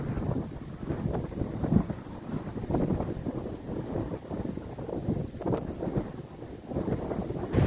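Strong wind buffets the microphone on a blustery day beside a river, a steady loud rushing roar with gusting swells throughout and no voices.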